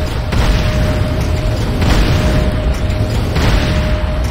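A building explodes in the Command & Conquer Renegade video game, a loud, sustained rumbling boom with a few sharper bursts breaking through a continuous roar, close and heavy.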